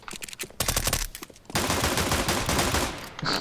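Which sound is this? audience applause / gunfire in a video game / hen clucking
gunfire in a video game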